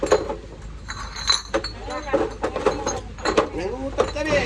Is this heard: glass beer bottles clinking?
yes